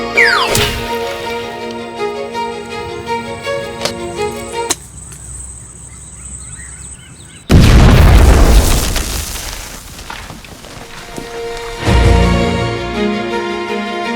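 Grenade blasts in a shooter video game: loud, booming bursts with long rumbling tails, the first a sudden heavy hit and a second following several seconds later amid other game effects.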